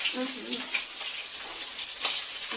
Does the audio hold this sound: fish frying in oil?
yes